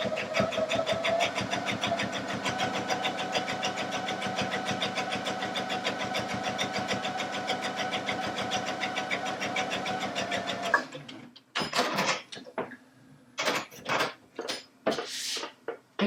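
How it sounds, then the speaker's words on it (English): A Baby Lock Allegro sewing machine runs a top stitch, a fast even rattle of needle strokes for about eleven seconds before stopping, followed by a person speaking over quieter handling sounds. "So here we're just going to stitch this top stitch."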